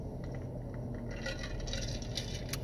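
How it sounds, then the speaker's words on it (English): Water being sipped from a 32-ounce cup, with faint wet slurping and squishing sounds close to the mic that grow busier in the second half over a low steady background. "Let me get my sip in."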